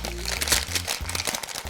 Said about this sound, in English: I'm going to take this edge where the seam is and I'm going to fold it inside the cone